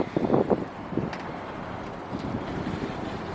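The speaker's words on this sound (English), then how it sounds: "It's a little bit windy up here" Wind buffets a microphone at a hilltop machine-gun emplacement overlooking a bay, with heavy low rumbling gusts that are strongest at the start and then settle into a steady blustery roar.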